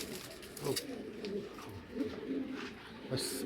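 Racer pigeons coo softly in low, throaty bursts, close by and fairly quiet, with someone talking faintly over them.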